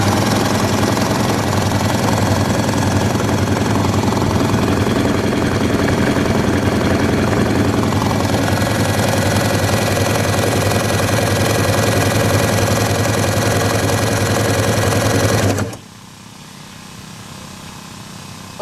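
Two-stroke engine of a neglected 1996 Sea-Doo GTI personal watercraft, left out over winter without winterizing, droning loud and rough with a knocking, vibrating rattle for about fifteen seconds before abruptly cutting out into near silence.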